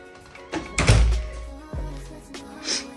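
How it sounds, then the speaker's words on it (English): A hotel room door thuds shut near the entrance, one solid low-frequency thunk with a short rattle, followed by quiet room tone and faint movement. "Let's close the door."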